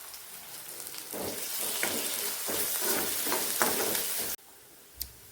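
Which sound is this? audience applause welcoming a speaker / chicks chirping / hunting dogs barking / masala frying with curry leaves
masala frying with curry leaves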